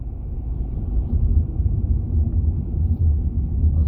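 A steady low rumble of a car pulling up to an intersection in Miami, deep and continuous, holding near for several seconds with no voices.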